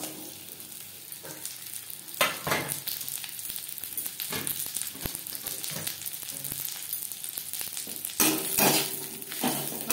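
Mango pieces frying in a pan with panch phoron and dried chilli, giving a steady close sizzle broken by several louder bursts of stirring and scraping.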